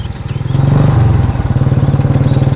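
A motorcycle said to run on kerosene chugs nearby with a fast, steady put-put rhythm, surging briefly louder before settling back.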